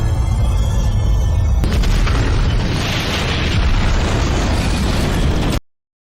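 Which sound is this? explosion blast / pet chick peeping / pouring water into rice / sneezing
explosion blast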